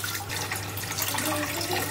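Rice being washed in water: steady close splashing and trickling of water with a constant low hum underneath, no talk.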